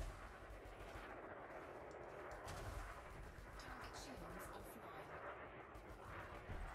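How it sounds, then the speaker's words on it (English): Gunfire from an enemy ship in the space game Elite Dangerous, a continuous rumbling barrage of muffled blasts and crackling impacts with a voice talking over it. "Who's shooting at me?"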